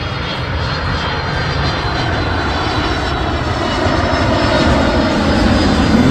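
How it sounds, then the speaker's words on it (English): A FedEx Boeing 767 jet at Cleveland Hopkins airport roars steadily and loudly, a constant broad engine rumble and hiss that swells slightly toward the end, with no voices. "Boeing 767."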